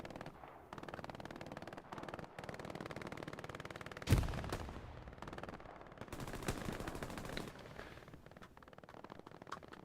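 Machine gun fire in a WWII video game match, an MG pummeling a building: sustained rapid bursts of automatic fire across the whole stretch, with one sharper loud report midway and brief pauses between bursts.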